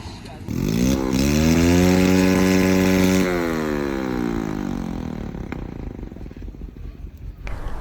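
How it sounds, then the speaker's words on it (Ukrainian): Motorcycle engines revving at night near a quarry campsite, one loud drawn-out rev held for several seconds then winding down into a rough idle, with further revving at the end. "а з іншого боку люди тупо на моциках коражаться"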